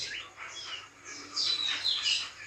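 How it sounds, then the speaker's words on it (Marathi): Oriental magpie-robin (dayal) singing in a home garden courtyard among mango and other trees, a run of varied bright whistled phrases and chirps, moderately close and continuous, with no voices. "अनेक पक्षी आमच्या अंगणात ये जा करीत असतात त्यापैकी हा दयाळ"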